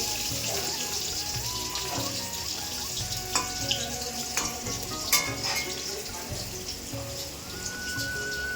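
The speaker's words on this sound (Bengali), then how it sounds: "তবে বেগুনটা ভেজে নিচ্ছি।" Eggplant frying in oil gives a steady, dense sizzle, with occasional light clinks and scrapes over the continuous hiss.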